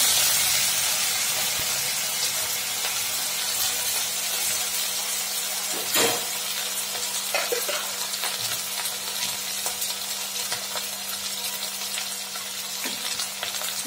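Onion and chili-ginger paste sizzle steadily in a hot pan, a loud continuous frying hiss with occasional stirring scrapes and crackles throughout.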